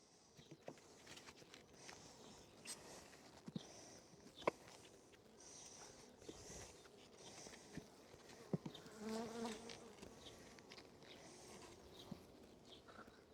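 Honey bees buzz inside a full hive during a demaree split, a dense, continuous close-up hum with frame knocks and handling clicks scattered throughout.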